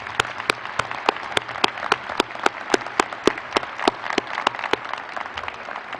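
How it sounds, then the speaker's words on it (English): Audience applause fills a Michigan State University commencement ceremony, a steady broadband patter of many hands with sharp individual claps cracking through at a fairly regular pace, close and sustained throughout. "I hope you'll give him another round of applause"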